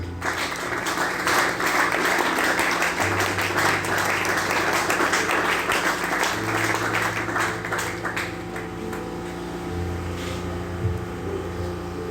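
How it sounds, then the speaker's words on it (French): A church congregation at a Sunday service applauds, a dense, sustained wash of clapping that fills most of the stretch and slowly thins toward the end, with low organ or keyboard tones underneath. "Acclamons le Seigneur."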